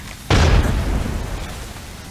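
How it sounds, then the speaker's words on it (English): A thermite grenade bursts in Apex Legends Mobile, one sharp loud blast that decays into a long hissing, crackling burn with no voices. "Throwing thermite grenade."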